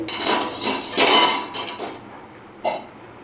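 A metal lid lifted off a cooking pot during home cooking: a few loud clanks and scrapes close up, followed by one sharp clink near the end.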